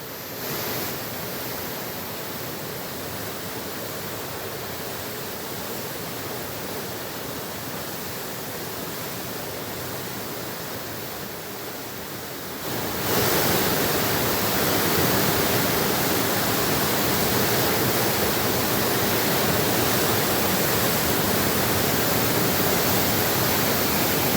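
Swollen Savitri and Kal rivers near Mahad in Raigad, Maharashtra, flooding under heavy monsoon rain: a continuous broadband roar of rushing water that grows noticeably louder and denser about halfway through, with no voices.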